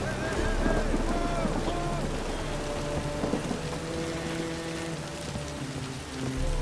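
Steady rain falls in The Witcher 3: Wild Hunt, a dense continuous patter on surfaces running the whole time, with faint low tones and voices murmuring underneath.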